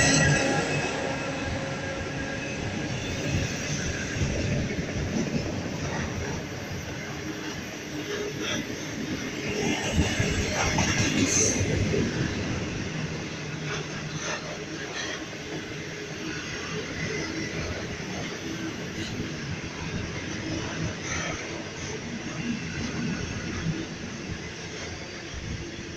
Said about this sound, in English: Here we have a northbound container train from the Illawarra line.